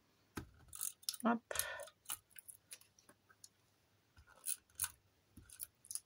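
A glue tape roller runs over a paper card, giving quiet, close scratchy clicks and short crackling bursts in an uneven rhythm across several passes.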